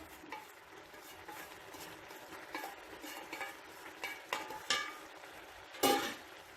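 A spoon stirs roasted coconut into pineapple pachadi in a pan, giving faint intermittent scraping clicks and a soft sizzle, growing a little louder toward the end, with no talk.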